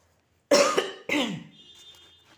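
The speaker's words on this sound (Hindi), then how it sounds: "खांसी भी आ गई है" Two sharp coughs in quick succession, close and fairly loud, followed by a faint lingering tone and quiet background.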